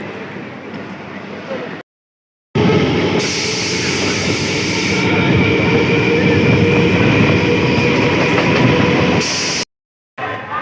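A Shantipur local train runs on rails near Barrackpore station, a loud steady rumbling roar with rattling carriages heard close up, broken by two brief cuts of silence.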